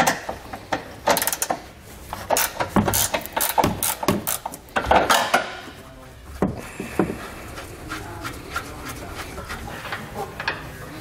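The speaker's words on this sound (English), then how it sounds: "We're going to take an 18mm wrench. We're going to remove this lower nut" An 18mm wrench works the lower nuts on a 2014 BMW X1 during a Curt trailer hitch installation, close metallic clicks and ratcheting knocks in irregular bursts, loudest early, with some clatter from handling tools.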